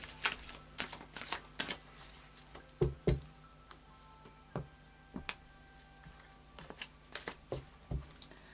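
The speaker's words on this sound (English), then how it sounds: "So I'll just do a final shuffle of the Psychic Tarot." Tarot cards are shuffled by hand in quick, irregular bursts of crisp snaps and riffles, close and fairly quiet, with brief pauses between.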